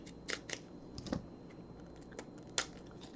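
Scissors snip through blind-box packaging in a few separate cuts, quiet and close, with small crinkles of material between the cuts and no talking.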